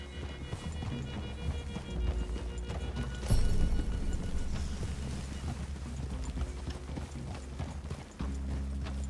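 Horses' hooves clip-clop steadily in a wooded clearing, a continuous rhythmic patter at moderate distance that swells briefly louder midway and carries on to the end.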